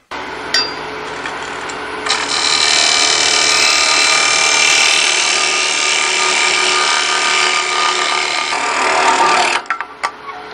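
A finishing parting tool cuts off a wooden miniature bowl on a lathe, giving a loud, sustained scraping whine for about seven seconds before it stops abruptly with a few final scrapes.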